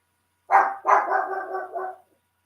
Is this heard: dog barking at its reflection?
yes